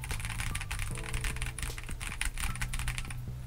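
Typing on a MelGeek Modern97 98% mixed-material keyboard produces a rapid, uneven run of close, slightly muted key clacks over a few seconds, with no talking.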